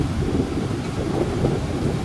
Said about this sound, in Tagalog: Lakas ng ulan dito sa amin, tsaka hangin.